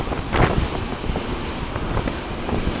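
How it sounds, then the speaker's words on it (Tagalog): Strong wind rumbles and gusts against the microphone throughout, with a louder burst near the start. "Malakas yung hangin"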